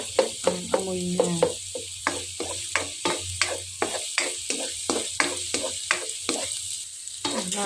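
Onion, garlic and bell pepper sauté in a pan for chicken afritada, a close sizzle punctuated by regular rhythmic scraping strokes of a spatula, about two per second, heard alone.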